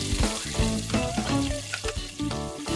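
Garlic frying in a pan while cooking chicken feet adobo, a loud close sizzle and crackle with brief scraping stirs, no talking.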